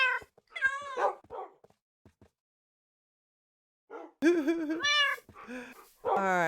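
Cats meowing in a Minecraft-style video game, a few short meows early on, then after a pause a louder run of repeated, close, overlapping meows and yowls.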